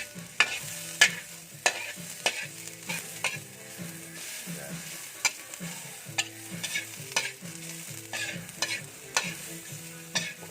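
Onion and mint fry in a pan for a mussel dish, with a steady sizzle broken by sharp, regular stirring clatters, close and fairly loud, over background music.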